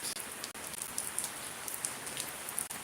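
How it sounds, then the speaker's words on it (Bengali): Heavy rain in Shariatpur, a dense continuous hiss of drops on surfaces close by, with brief sharper spatters breaking through and no voices. "শরীয়তপুর অনেক বৃষ্টি হলো"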